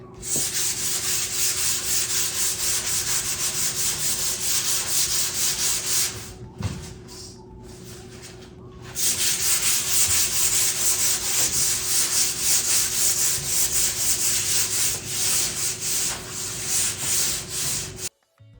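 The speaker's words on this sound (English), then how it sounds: "I'm gonna sand down the wood fill, and I'm gonna lightly sand the dresser to make it smooth" Wood filler and a wooden dresser are hand sanded in long rhythmic rasping strokes, loud and close, with a brief pause in the middle before the scrubbing resumes steadily and no one speaks.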